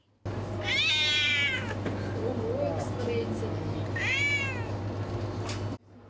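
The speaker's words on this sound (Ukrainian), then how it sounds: "Ось цього балакучого красення звуть пан Жадан." Cat meowing in a cat cafe, two drawn-out rising meows close by at the start and again near the end, over steady room hum and background noise.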